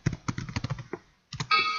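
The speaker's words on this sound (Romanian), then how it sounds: "vreau să introduc aici de la tastatură o comercial" Rapid keystrokes on a computer keyboard, a close burst of clicky taps, a brief pause, then a few more presses and a longer held sound at the end.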